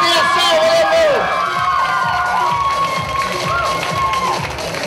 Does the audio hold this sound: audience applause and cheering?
yes